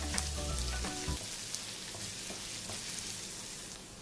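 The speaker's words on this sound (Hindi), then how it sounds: "अदरक को हमने पेस्ट किया हुआ है। इसे 1 मिनट के लिए सौटे करेंगे।" Ginger paste sautés in a pan of oil for dal tadka, a steady soft sizzle and crackle close by, with a few light clinks from stirring.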